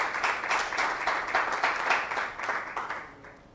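A church congregation claps together in sustained, rhythmic applause during a worship service, loud and full at first, then gradually easing off.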